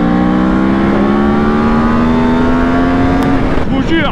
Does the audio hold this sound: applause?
no